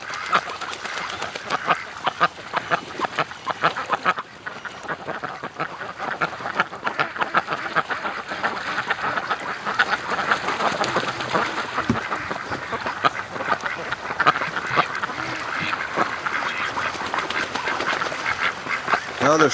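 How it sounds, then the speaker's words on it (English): Free-range ducks on a lake quack constantly in a dense, chattering chorus of many overlapping calls, moderately close and continuous throughout. "the ducks aren't interested in going out in the open water"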